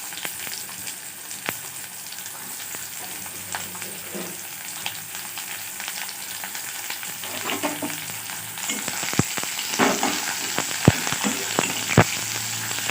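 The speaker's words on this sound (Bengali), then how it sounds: "দিয়ে দেবো পেঁয়াজ।" Sliced onions sizzle steadily in hot mustard oil with whole cumin and bay leaves, a dense continuous frying hiss that grows louder partway through, broken by occasional spoon clicks against the pan.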